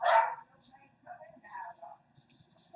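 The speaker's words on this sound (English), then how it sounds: "Now you hear my dog bark for a brief moment." A single loud dog bark up close at the start, followed by quieter yips and murmuring voices.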